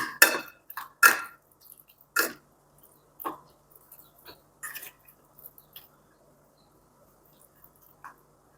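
Spoon scraping and clinking in a pot as oil and a hing tempering are stirred into raw mango chutney, a few sharp knocks at first, then sparse quieter taps and scrapes with pauses, close by.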